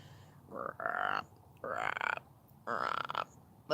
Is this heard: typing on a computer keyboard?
no